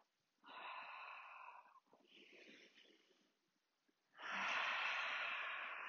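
A yoga exhale: a close, breathy, wheezing outbreath that comes in a few airy bursts, ending in a louder, fuller rush of air.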